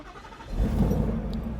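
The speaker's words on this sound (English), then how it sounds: "Car fires right up." A 1967 Shelby GT500CR carbon fiber car with a supercharged Coyote engine cranks briefly, then fires up close by and settles into a loud, rumbling idle.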